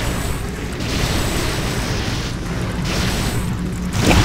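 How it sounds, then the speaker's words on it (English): Loud, rumbling blasts from the video game Ghostbusters: Sanctum of Slime fill the sound, a continuous roaring explosion texture with a sharper burst near the end. "big explosion there."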